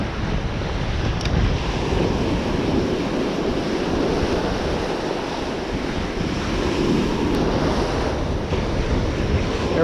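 Ocean surf rolls onto a Virginia beach in spring, a continuous broad wash of breaking waves with heavy wind rumble buffeting the microphone throughout.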